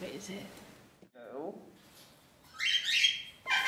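Parrots in an aviary give a few bright, shrill calls and chirps, the loudest burst coming near the end, with quieter calling at the start of the recording.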